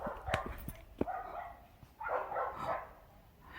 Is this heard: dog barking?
yes